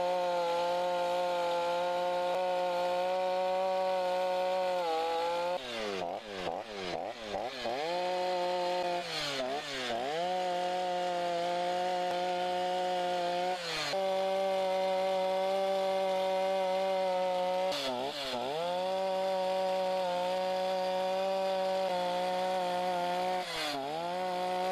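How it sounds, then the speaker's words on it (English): A chainsaw fitted with a rotary gouge carves across the grain of wood, its teeth starting to dull. The buzzing engine runs loud and steady, and its pitch dips again and again as the cutter bites in. "I'm feeling the teeth already starting to get dull, because you're cutting onto the top of the grain."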